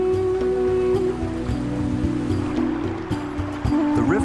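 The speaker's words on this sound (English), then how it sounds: "The river here flows over other sacred icons." River water flowing over a riverbed of carved stone linga at Angkor, Cambodia, a steady close rush and babble heard alone, with some low tonal hum running underneath throughout.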